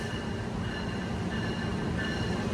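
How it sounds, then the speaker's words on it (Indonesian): A Wijaya Kusuma passenger train from Ketapang bound for Cilacap pulls into an Indonesian station, a steady rumble of wheels and carriages with faint metallic squealing, continuous and moderately close, with no voices. "ada kereta api masuk dari sebelah sana"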